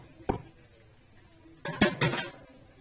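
A spoon scoops cooked vegetable food from a pot onto a plate in a home kitchen, one sharp clink followed by a cluster of scraping, clattering metal-on-dish sounds, close and fairly quiet, no talking.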